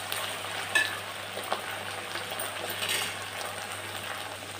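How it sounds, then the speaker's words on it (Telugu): Sweet corn and meal maker chunks frying in a pan give off a steady, soft sizzle. The crackle stays constant throughout, with a few faint clinks, and no talk. "కార్న్ మిల్ మేకర్ కూడా వేసుకుందాం. అవి కూడా వేగుతాయి."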